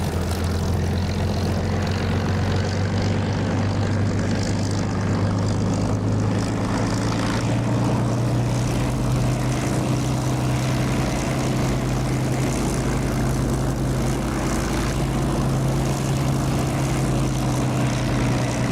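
An aircraft engine throttling up in the DCS flight simulator video game, a steady loud propeller drone whose pitch slowly climbs over nearly twenty seconds, continuous and alone.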